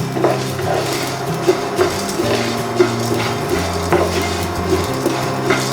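Sesame seeds dry-roast in a pan with drumstick leaves, as a utensil scrapes and taps against the pan in irregular, close strokes over a low background hum and faint rustling.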